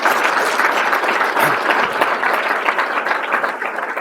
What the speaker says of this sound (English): Big round of applause for Coleman and Hannah for filling in tonight.